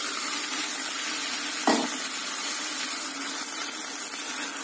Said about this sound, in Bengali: তো ঠিক এই সময় আমি আমাদের যে ম্যারিনেট করা মাটনটা ছিল সেটা আমি এর মধ্যে অ্যাড করে দিচ্ছি।